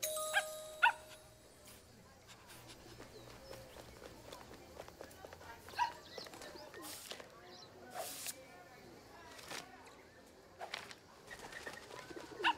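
A dog in a video game barks a few times amid ambient birdsong and cooing pigeons, with intermittent footsteps and a person talking over the scene.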